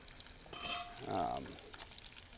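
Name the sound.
olive-stuffed sausage balls frying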